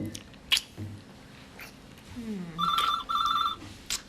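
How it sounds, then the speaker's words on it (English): An office telephone rings on a farm set, two close electronic double trills with a short gap between them, following soft rustling and a faint breathy voice. "The phone?"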